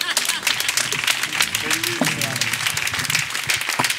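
Audience applause at an Italian comedy show, a dense, steady wash of clapping under talk.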